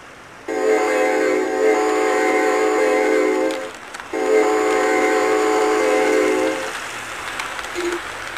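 Two long, loud blasts of a train horn sound back to back, with the rumble of a train passing close by.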